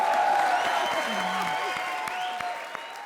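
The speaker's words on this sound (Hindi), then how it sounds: "बजा दे ताली" A studio audience at a comedy show claps in a dense, steady burst of applause, fairly close and sustained, with faint voices and cheers mixed in.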